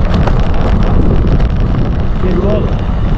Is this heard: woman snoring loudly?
no